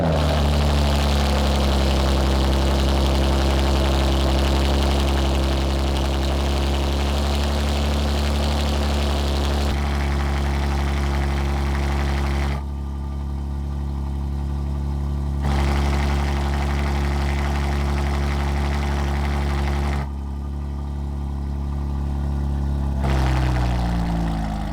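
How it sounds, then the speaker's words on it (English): A BMW G87 M2 with a catless downpipe exhaust cold-starts and rumbles at a loud, deep, droning idle, its tone and level shifting a few times. "this is an insanely loud cold start"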